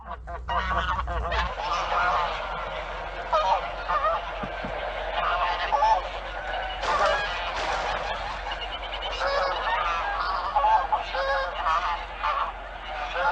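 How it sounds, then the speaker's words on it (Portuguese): Migratory geese honk on the water in a dense, continuous chorus of overlapping calls, steady and moderately loud throughout with no voices over it. "Estas aves migratórias viajaram por milhares de quilômetros para escapar do frio."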